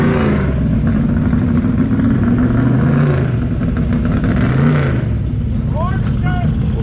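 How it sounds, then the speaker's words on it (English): A loud race car engine, a 1968 or 1973 Camaro at an autocross event, drones and revs steadily throughout, with a deep rumbling tone that rises and falls, while a voice talks over it. "Definitely one of the coolest sounding cars here"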